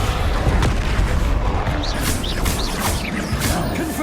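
Descendo slam spells from the Hogwarts Legacy video game, a dense run of heavy booming thuds and crashes layered with whooshing magical effects and game music, loud and continuous with no speech.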